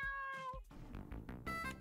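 A cat meowing in a video game, a couple of clear, close, drawn-out tonal meows alone.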